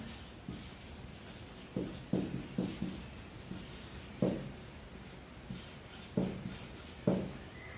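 A marker writing on a whiteboard, giving close, distinct squeaky strokes in short separate bursts with pauses between them, about a dozen in all and heard alone.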